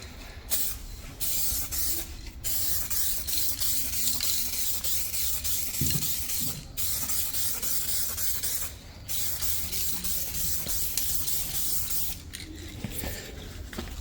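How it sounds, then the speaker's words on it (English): A spray gun lays base coat paint onto a car bumper in long, loud, continuous hissing passes, broken by a few short pauses, with faint mechanical clicks during the gaps. "now we're on the third and final coat of base coat"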